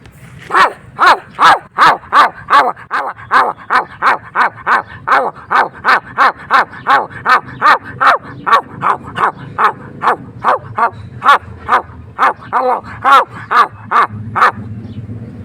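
A human voice imitates a fast-barking dog, giving a long, rapid run of loud, evenly spaced barks, about two per second, close and clear with nothing else behind them.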